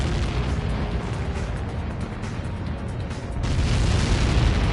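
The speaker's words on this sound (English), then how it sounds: "How many got caught in that explosion?" A thick, rumbling roar of a large blast in the video game Ace Combat 7: Skies Unknown swells steadily and keeps going, dense and loud throughout with no voices.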